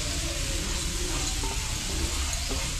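Roasted spices and ground peanuts being stirred in a hot pan for stuffed bitter gourd filling, a steady close sizzle with faint scraping from the spoon, continuous and alone.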